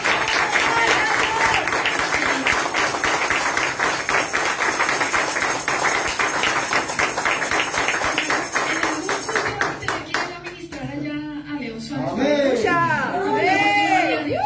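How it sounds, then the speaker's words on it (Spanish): A church congregation applauds, with dense, rhythmic clapping and cheering for about ten seconds that breaks off as a voice starts talking loudly over lingering sound. "Un aplauso al Señor por esa cosa."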